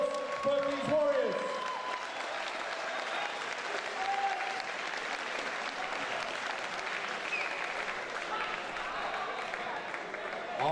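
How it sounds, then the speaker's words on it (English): Sustained audience applause for the fighters after a five-round mixed martial arts bout at a UCMMA event, dense steady clapping throughout with a voice speaking at the start. "let's have a hand of applause for these warriors"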